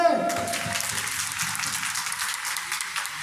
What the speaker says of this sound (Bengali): হাততালি হবে